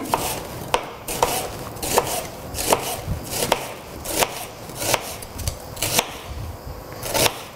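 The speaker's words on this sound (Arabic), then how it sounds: "رح اقطع هلا البصل كمان رح اقطعهم بشكل طويل" A knife chops onion into long strips on a board with a steady run of sharp, loud, close strokes at a regular rhythm, alone without talk.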